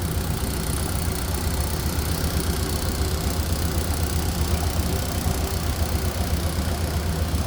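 A 1931 Ford Model A engine idles steadily up close, a smooth, even low rumble with a faint mechanical ticking and no voices.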